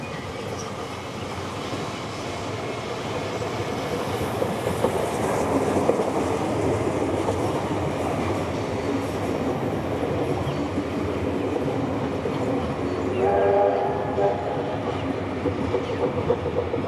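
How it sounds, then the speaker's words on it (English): Locomotive 3265 passes through Bankstown station in Western Sydney with a steady, continuous rail rumble and wheel noise, and a brief wheel squeal near the end. "3265 is now seen passing through Bankstown via Regent's Park in Western Sydney"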